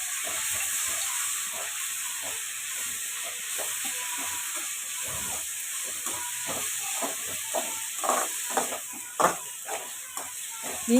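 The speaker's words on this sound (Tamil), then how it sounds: "இஞ்சி பூண்டு போட்டு நல்லா வதக்கிக்கோங்க. பச்சை வாடை போகிற வரைக்கும் நல்லா வதக்குங்க." Ginger and garlic sauté in a pan for tomato rice, giving a steady close sizzle and hiss with scattered soft stirring clicks that grow a little livelier near the end.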